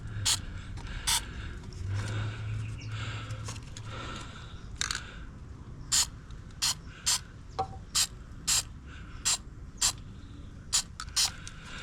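Short spray-can bursts repeat at an irregular pace while Tesla T Sportline wheels are painted, each hiss sharp and close, separated by brief quiet gaps, after a stretch of lower rustling and handling noise.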